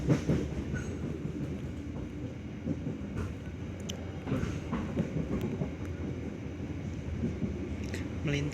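The KA Kutojaya Selatan passenger train runs on the single-track line between Cicalengka and Kroya in Indonesia, giving a steady, close rumble with rhythmic rail clatter and faint squeals.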